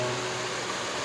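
Water runs from a stream down to Banyu Tibo beach in Pacitan, East Java, as a soft, steady rushing flow with no voices.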